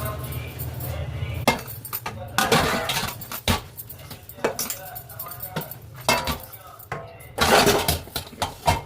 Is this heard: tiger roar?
no